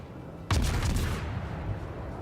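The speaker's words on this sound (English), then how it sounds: "Attempt at torpedo salvos." A torpedo salvo launches in the World of Warships naval video game, heard as a sudden sharp burst followed by a short rumbling whoosh that fades over about a second and a half.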